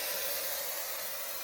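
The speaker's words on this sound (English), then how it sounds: "When you come to using a spray adhesive, you always spray the wadding, not the fabric." Spray adhesive hisses from an aerosol can onto quilt wadding in one steady, continuous burst at close range.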